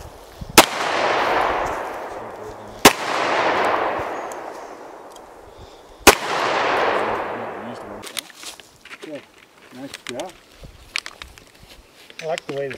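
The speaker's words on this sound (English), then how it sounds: "I like the way this gun fires." Three sharp, loud handgun shots fired one at a time at a few seconds' spacing, each followed by a long decaying echo, apparently at an outdoor range; people then talk briefly.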